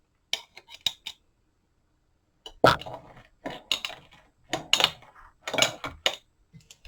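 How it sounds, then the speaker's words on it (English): Sharp crunching and squelching bursts come in irregular clusters as cabbage and carrot for sauerkraut are pressed down hard, squeezing out juice, with short quiet gaps between them. "And you can hear the juice squeezing out."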